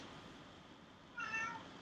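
A cat meows once, a short, faint, tonal call rising out of steady room hiss after a quiet stretch.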